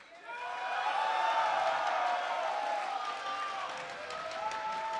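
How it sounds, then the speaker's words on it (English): A large esports arena crowd at an IPL League of Legends match cheers and applauds for Chinese team World Elite, a broad sustained roar with whoops and tonal voices layered through it for the whole stretch. "please give the Chinese champions a cheer"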